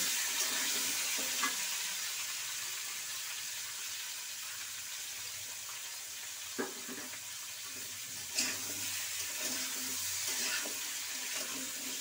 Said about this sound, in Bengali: কুমড়োটা ভালো করে একটু কষিয়ে নেব